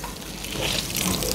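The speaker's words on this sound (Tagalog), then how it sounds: "Tatanggalin natin yung tubig na yan. Salin natin dito sa ating malinis na bowl." Water poured off pickled green papaya into a clean bowl makes a steady, close splashing gush that grows slightly fuller as it runs.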